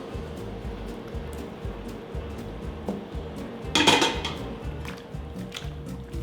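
Pan of pesto pasta with cream set down on a gas stove, a single metallic clank of pan on grate over a low hum of kitchen background.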